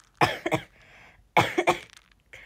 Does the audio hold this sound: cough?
yes